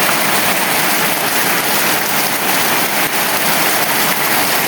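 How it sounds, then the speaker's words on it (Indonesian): Steady rain pours down without pause, a loud, dense hiss of falling water filling the whole stretch with no voices. "Bocor ini soalnya hujan loh."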